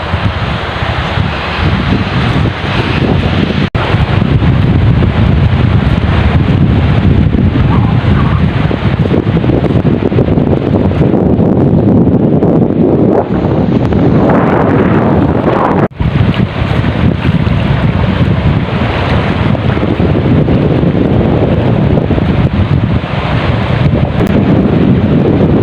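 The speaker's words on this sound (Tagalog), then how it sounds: "namumuti yung ating karagatan sa lakas ng hangin ay yung alon niya" Strong wind roars and buffets the microphone continuously, with the rush of rough, whitecapped sea waves beneath, loud and steady with no voices.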